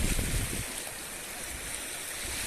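Water runs steadily from underground, a continuous broadband rush like a small stream, with a lower rumble at the start before settling into an even flow close to the microphone.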